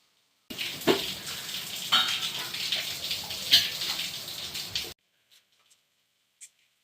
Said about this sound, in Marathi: तर पहिलं स्वच्छ पाण्याने धुवून घेत आहेत.